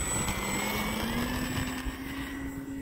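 An E-flite Extra 300 3D 1.3m electric RC aerobatic plane takes off, its motor giving a steady, moderately loud whine with a rising hum that holds level throughout, with no talk over it.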